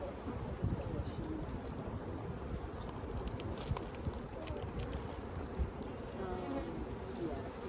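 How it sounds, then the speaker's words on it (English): Dense, steady buzzing of a large mass of honeybees swarming around an opened hive during a split and inspection, continuous and close, with occasional faint talk and light wind noise outdoors. "when there's a lot of bees like that"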